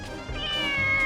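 A stray cat meows a few times in quick succession, clear and close, with a quiet background and no talking.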